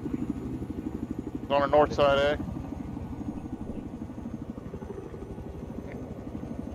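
A Little Bird helicopter in a video game beats with a fast, steady rotor chop close by throughout, and someone speaks briefly over it.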